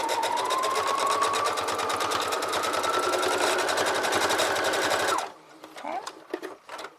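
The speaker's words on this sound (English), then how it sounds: "I'm going to sew forwards and backwards and forwards and backwards." A sewing machine stitches a headband, running forwards and backwards in one steady, loud, continuous whir with a rising hum. It stops abruptly, leaving faint handling sounds.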